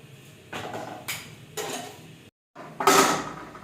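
Pots and pans clank on a home kitchen stove while saag (mustard greens) is reheated, with several separate metallic knocks and scrapes, one short pause and then a louder clatter at the end.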